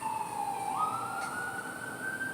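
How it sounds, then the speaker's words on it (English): Emergency vehicle sirens wail at moderate distance, the tone sweeping and then holding a rising pitch over a low background hum. "You hear the sirens?"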